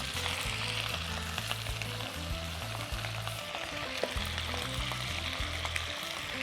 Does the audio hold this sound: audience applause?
no